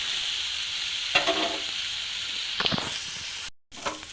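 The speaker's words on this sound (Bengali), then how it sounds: "এগুলো একটু ভেজে নিই।" Onions and spices with salt and fennel powder fry in a pan, a steady close sizzle broken by a few stirring scrapes, a brief cut to silence, then the sizzle resumes.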